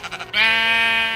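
A sheep bleats once in Minecraft, a loud, close, drawn-out wavering cry that follows a few short clicks and stands alone without talk.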